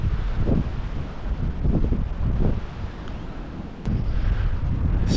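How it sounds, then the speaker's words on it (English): Wind gusts through swaying trees in Edge Hill Woods, a loud, continuous broadband roar that swells and eases in waves, with heavy rumbling buffeting close to the microphone. "Look at the way those trees are swaying in the wind."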